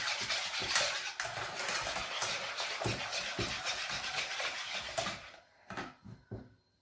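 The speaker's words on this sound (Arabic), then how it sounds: "نخلط مليح." A spoon or whisk stirs pastry cream mixture in a pot with rhythmic scraping and sloshing strokes, close and steady, then slows into a few quieter, separate scrapes.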